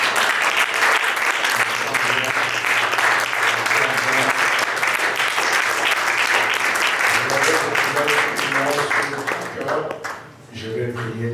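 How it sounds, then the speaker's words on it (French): A church congregation applauds and cheers at a sermon during a seminar in Belgium, sustained loud clapping with voices mixed in, then fading briefly near the end before picking up again. "Quelqu'un peut acclamer."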